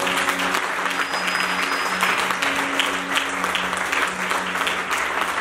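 A church congregation applauds steadily and loudly throughout a harvest festival service at an evangelical Foursquare church in Adiaké, with the clapping dense and continuous under a faint sustained tone.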